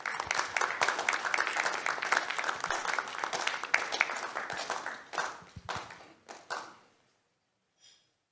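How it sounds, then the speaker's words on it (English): Warm audience applause at a business breakfast meeting in Ghana greets the MD of the Ghana Stock Exchange, dense clapping for about five seconds, then thinning into scattered claps and fading out. "let's welcome the MD of the Ghana Stock Exchange, Abnamwa, with a round of applause"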